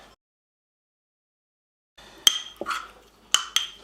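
Steak and garlic mashed potatoes are plated after a short silence, with a few sharp, close clinks of utensils against a plate, irregularly spaced and fairly loud, with no talking.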